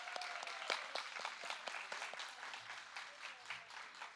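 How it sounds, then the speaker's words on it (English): At a women's leadership summit, an audience applauds the lunch caterers: a moderate round of clapping in which many individual sharp claps stand out, fairly even throughout with no one speaking over it. "join me in giving Barb and Al a round of applause"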